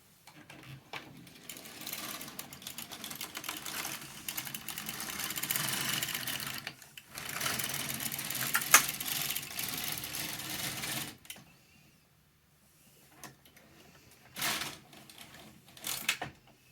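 A circular knitting machine working a hat on 150 needles runs with a steady mechanical whir and fine clatter for several seconds, pauses, resumes, then stops, leaving a near-silent gap broken by short bursts of handling noise.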